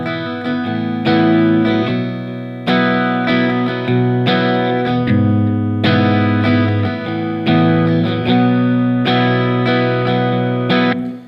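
Strummed acoustic guitar playing the opening part of a song, full sustained chords with rhythmic accents and fresh strums every second or so, loud and steady with no voices.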